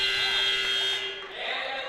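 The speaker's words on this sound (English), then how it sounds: "And there's the buzzer here at Bartels Roadie." A buzzer sounds to end the half at a women's college basketball game between MCC and Kellogg, a steady tonal blare that holds for about a second, then gym noise and crowd murmur take over.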